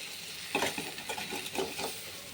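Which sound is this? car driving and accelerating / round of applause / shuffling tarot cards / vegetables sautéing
vegetables sautéing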